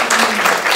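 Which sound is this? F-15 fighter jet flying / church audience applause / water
church audience applause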